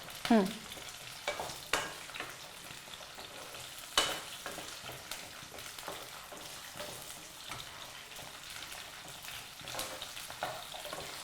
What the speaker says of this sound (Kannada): ಚೆನ್ನಾಗಿ ಫ್ರೈ ಮಾಡ್ಕೋಬೇಕಾದ್ದು. ಚೆನ್ನಾಗಿ ಫ್ರೈ ಆಗಬೇಕು.